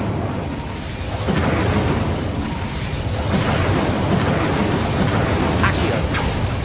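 A spell cast in Hogwarts Legacy bursts out as a loud, rumbling whoosh of fire, followed by a second surge of flame noise, broad and close.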